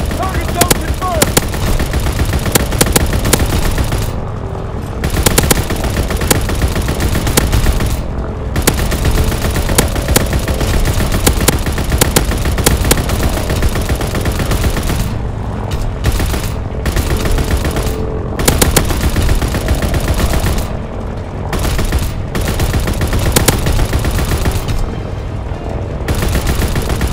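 Sustained automatic machine gun fire from a ball turret gunner in Call of Duty WW2 team deathmatch, loud and continuous bursts with brief gaps, dense and close throughout.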